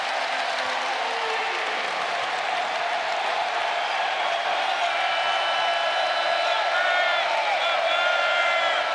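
A packed college basketball arena crowd roars steadily during a West Virginia versus Baylor game, a dense, sustained wall of cheering and applause with whistles and whoops, broadcast commentary faintly underneath.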